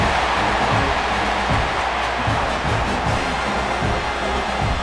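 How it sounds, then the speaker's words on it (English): A stadium crowd in the College Football 26 video game, Alabama versus Tennessee, roars loudly and continuously as a dense, steady wash of cheering with no clear breaks. "This crowd is hyped."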